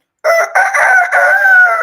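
A human voice imitates a rooster crowing, one loud, close, shrill cock-a-doodle-doo lasting under two seconds with brief breaks between its rising and sustained notes.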